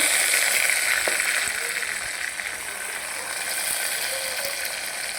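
Eggplant pieces frying in hot oil with cumin for eggplant jeera rice, a steady, close hiss and crackle with a few small pops, fading slightly after the start.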